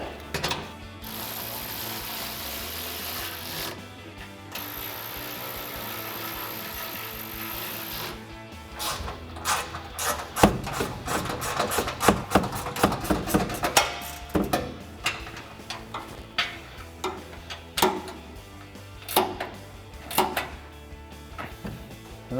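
A ratcheting wrench and socket tighten exhaust bolts on a RAM 1500 with a Flowmaster Outlaw dual exhaust. A steady mechanical whir comes first, then a long run of rapid, close clicking and knocking, with no talking.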